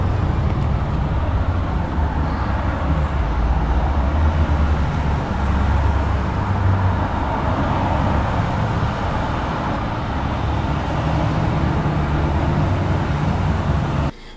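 Street noise at a traffic light: cars drive past in a continuous, fairly loud rumble of engines and tyres that holds for the whole stretch.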